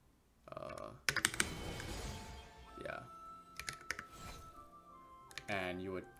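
Computer keyboard keys tapped rapidly while playing a game, bursts of quick clicking clusters mixed with someone talking over them.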